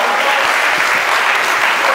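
Dense, steady applause from an event audience fills the room, many hands clapping continuously and loudly, close and unbroken throughout.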